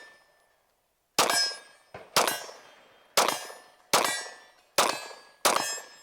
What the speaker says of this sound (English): For whatever reason, slamming a mag into this gun is terrifying.